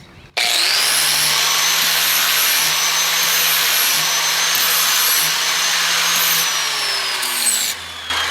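An angle grinder dresses the top face of a lawnmower blade, giving a loud, continuous high whine with steady grinding hiss that runs for several seconds before it winds down, with no talk.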